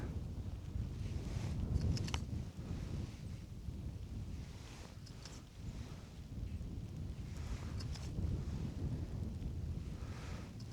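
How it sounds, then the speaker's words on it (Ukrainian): Steady wind buffeting the microphone during winter ice fishing for pike, a continuous low rumble with gusty surges, no voices. "Погода паршива, дує вітер іде сніг."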